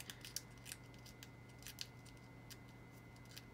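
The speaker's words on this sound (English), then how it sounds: "I could put it here and then just trim off the part I don't want" Scissors trim paper for an A6 notebook cover, making several faint, crisp snips at irregular intervals over a low steady hum in a quiet room.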